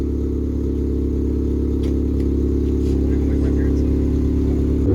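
A 2015 Honda Civic Si with an Invidia Q300 exhaust idles loud and close, its steady low engine drone rising slightly in a mild rev, with faint voices in the background.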